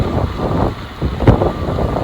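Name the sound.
wind while cycling, wind noise on microphone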